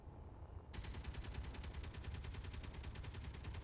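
Ship weapons in the Space Engineers video game firing in a rapid, steady automatic burst after a short quiet lead-in, continuing unbroken to the end at a moderate, distant-sounding level.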